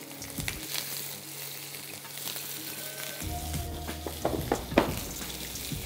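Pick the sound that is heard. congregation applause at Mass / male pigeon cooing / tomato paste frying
tomato paste frying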